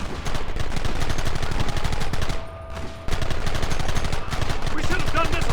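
Rapid, loud gunfire fills a Red Dead Redemption shootout, dense overlapping shots and bursts from several guns with a brief lull midway, voices shouting faintly beneath.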